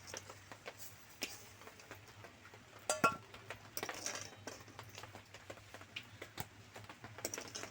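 Boiled taro being lifted from a wok into a bowl, with faint, sparse metal clinks and soft knocks of a spoon against cookware in a quiet kitchen, irregularly spaced and slightly louder midway.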